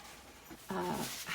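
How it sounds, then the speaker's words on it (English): A dog whimpers and pants softly close by in a quiet room during a relaxed painting session, giving a few brief whiny breaths. "That's my dog."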